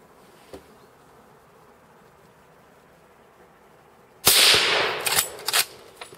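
A single loud bolt-action hunting rifle shot firing a .30-06 bullet cracks out abruptly after a quiet outdoor stretch with faint insect buzzing, followed by a couple of sharp echoing reports or reloading clacks.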